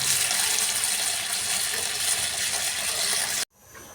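Water pours steadily and loudly into a pot of lentils and rice for cooking, a continuous splashing rush that cuts off abruptly near the end.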